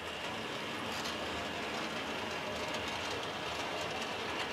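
HO scale model train running around an automated layout with block detection, a steady continuous rolling rumble and rail clatter with faint wheel squeal, close and unbroken throughout.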